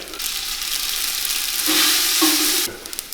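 Mustard seeds and spices frying in hot oil with asafoetida, a loud, dense sizzle with crackling pops that swells midway and then settles to a quieter hiss.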